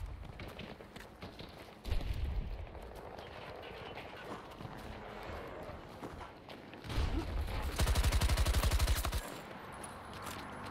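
Gunfire in the shooter game Battlefield 2042, with rapid automatic bursts, including a dense, loud stretch near the end, over a busy battle backdrop.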